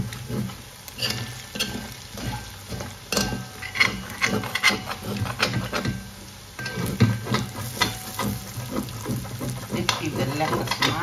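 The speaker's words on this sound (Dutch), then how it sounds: "Dan laat ik hem even licht bakken." Arrowleaf elephant ear frying lightly in a pan, a steady soft sizzle with occasional stirring scrapes and utensil clinks, close and continuous.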